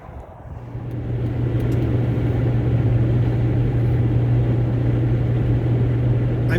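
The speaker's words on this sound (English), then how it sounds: "I'm driving back from the Milan airport towards Gallup, New Mexico" A steady, droning road rumble with a constant low hum is heard from inside a car on the highway from the Milan airport toward Gallup, New Mexico. The sound builds in the first second and then stays even.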